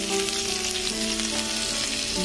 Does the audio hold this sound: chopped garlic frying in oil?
yes